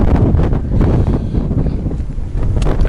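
Heavy wind buffets the microphone outdoors during a winter bird count in Lethbridge, a loud, continuous low rumble with gusting swells throughout and no voices.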